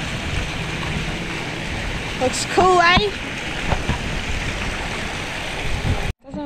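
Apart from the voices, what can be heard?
waterfall flowing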